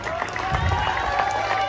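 A crowd at a Govinda Thar human-pyramid practice cheers and claps in a dense, continuous roar, mixed with voices and close-range clamour throughout.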